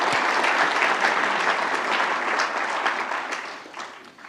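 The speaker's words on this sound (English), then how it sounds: "join me in giving Stuart a round of applause for his session" An audience at an innovation fund conference applauds after a speaker's session, a full steady round of clapping that holds for a few seconds and then tapers off toward the end.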